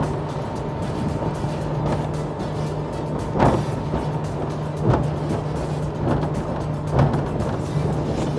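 Jeanneau Cap Camarat 5.5 CC center-console motorboat cruising at 22-23 knots, a steady engine drone under broadband hull and water rush with periodic thumps as the hull slaps waves, close and continuous with no talk.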